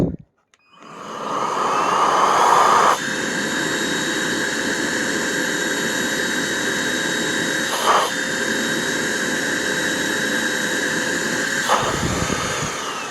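A GeeMo X4 vacuum cleaner runs steadily with suction measured at the end of its nozzle, a loud continuous whining roar with a high tonal whine, briefly changing pitch as the nozzle is blocked and released.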